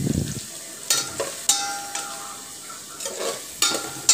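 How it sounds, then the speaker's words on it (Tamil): Onions sautéing in a pan with cinnamon and cloves for an egg curry. Close, repeated spatula scrapes and stirs come in short bursts over a faint background sizzle. "வெங்காயத்தை போட்டு நல்லா வணக்கிடணும்."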